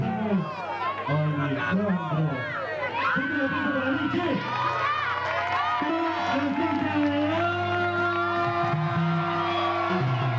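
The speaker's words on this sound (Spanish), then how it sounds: "¡Fuerte el aplauso para él, tío!" Crowd cheering and applause at a live show by a band, loud and continuous throughout, with music tones and shouting voices mixed in.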